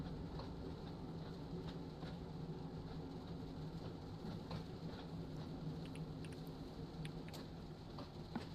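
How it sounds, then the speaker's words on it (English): Steady rain patter in the train simulator Train Sim World 5 on the St Erth to St Ives line, with occasional light drips and crackles over a low rumbling background, continuous and moderately quiet throughout. "Starting to rain."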